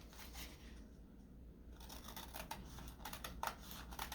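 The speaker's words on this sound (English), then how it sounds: "get your scissors back and cut around the edges" Scissors snip through wax paper around the edges of melted crayon art for a sun catcher, giving a run of soft, close crisp cuts and rustles with no talking.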